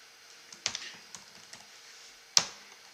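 Someone types on a computer keyboard in a quiet room, giving a few scattered, light key taps and then one sharper, louder keystroke near the end.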